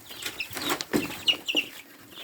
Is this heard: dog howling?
no